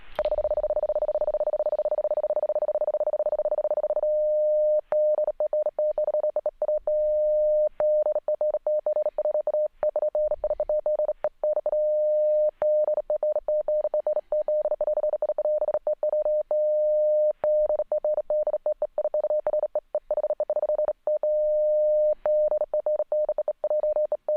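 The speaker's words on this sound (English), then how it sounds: "try the same thing in OOK mode, on-off keyed" A single steady on-off keyed radio data tone from an RFBitBanger, keyed in irregular bursts like fast Morse-style beeping, loud and clean, starting with one long unbroken tone.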